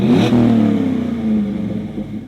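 A car engine revs up hard and settles into a deep, throaty exhaust rumble, loud and close, with no other sounds.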